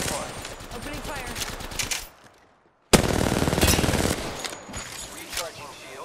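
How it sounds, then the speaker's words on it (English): Rapid automatic gunfire from a squad-based battle royale video game, loud bursts broken by a short near-silent gap, then resuming with heavy sustained shooting and clattering effects. "Opening fire."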